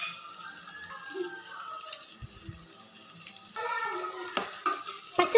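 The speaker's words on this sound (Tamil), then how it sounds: "பச்சை மிளகாயையும் வெங்காயத்தையும் நல்லா வதக்கிக்கணும்." Onions and green chillies sautéing in a pan give a soft, steady sizzle, with light stirring and utensil clinks that grow louder and busier toward the end; no one speaks.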